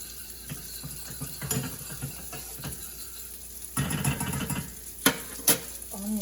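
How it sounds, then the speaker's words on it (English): Blueberry syrup boils in a pot on the stove, a close bubbling and ticking with irregular pops and a couple of sharp clinks near the end, no speech. "I'm going to let it continue to boil."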